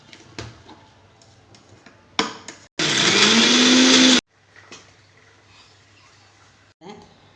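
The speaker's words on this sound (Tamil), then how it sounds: "கொஞ்சமாக உப்பு சேர்த்து கல் உப்பு சேர்த்து அரைச்சிக்கிட்டு இருக்கேன்" A kitchen mixer grinder grinds rock salt in one loud, harsh, whirring burst of about a second and a half. Quieter clatter and a speaking voice come before and after it.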